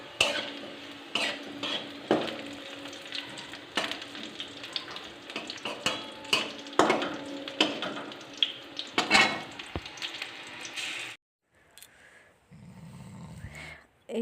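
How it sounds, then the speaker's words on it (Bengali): Garlic, green chilies and onions fry in a pan while being stirred, a steady sizzle broken by repeated scraping and clinking of a utensil against the pan, close and moderately loud, then a brief near-silent pause at the end. "এখানে রসুন, কাঁচা লঙ্কা, পেঁয়াজ ভাজা হচ্ছে"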